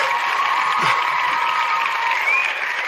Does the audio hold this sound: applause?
yes